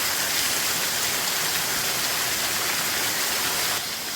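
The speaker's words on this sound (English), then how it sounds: "It's a little bitty waterfall." Falling water splashes in a steady, dense hiss, a small waterfall pouring inside a big cave close by, without pause and without any talking.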